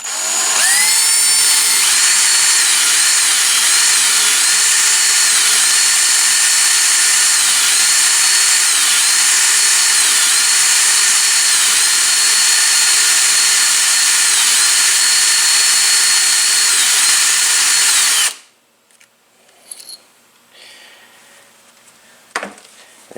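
A high-pitched drill with a 9/64 bit on a PM727MXL milling machine whines continuously for a long stretch, its tone wavering as it finishes boring a hole, then stops, leaving a few faint clicks and knocks.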